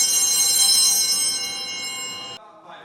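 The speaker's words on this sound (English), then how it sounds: "here we have 2 sets of bells" Bright, shimmering metallic church altar bells ring together with a sustained chime that slowly decays before cutting off abruptly.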